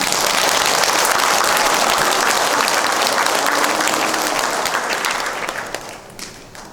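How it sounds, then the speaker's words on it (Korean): Sustained applause from a church congregation welcoming a nun, Sister Maristella, before her homily on Vocations Sunday, dense and steady before gradually thinning out toward the end. "박수 한번 주십시오"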